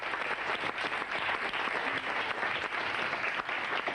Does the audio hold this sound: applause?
yes